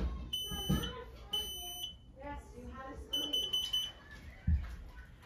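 A P3010K-CO combination smoke and carbon monoxide alarm sounding during a test, giving shrill high-pitched beeps in repeated short bursts close by, while a person talks over and between them.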